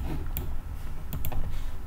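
Keys clack on a computer keyboard in a few quick, irregular taps over low background hum, close and moderately loud, with no voices.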